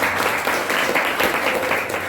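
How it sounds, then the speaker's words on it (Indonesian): A classroom of students claps together in a short, dense burst of applause that continues evenly throughout, fairly close and with no voice over it. "kita tepuk tangan"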